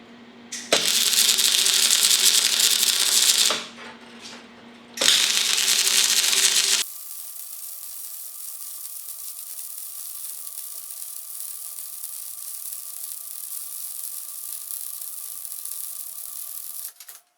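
A welder running at maximum heat on thick 3/16 inch metal gives two loud bursts of harsh, crackling arc hiss, each a few seconds long. A steady, quieter mechanical whine of the machine follows.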